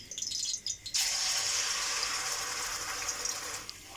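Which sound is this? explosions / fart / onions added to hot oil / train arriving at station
onions added to hot oil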